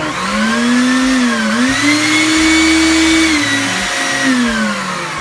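A vacuum cleaner runs steadily and loudly with a whining motor tone that dips and rises in pitch, no voices present.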